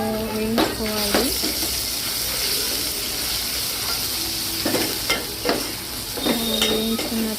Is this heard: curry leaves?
yes